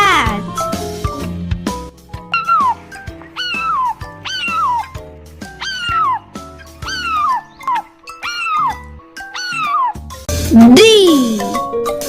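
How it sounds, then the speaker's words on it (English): A cartoon cat gives one rising-and-falling meow near the end of a bouncy children's alphabet nursery rhyme, after a run of bright, plucked melody notes. "C for cat."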